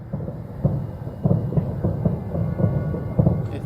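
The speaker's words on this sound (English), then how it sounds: "It's lightning. It's a thunderstorm." A night-time thunderstorm plays back with dense, crackling low rumbles and repeated sharp bursts, steady and fairly loud, with no voices.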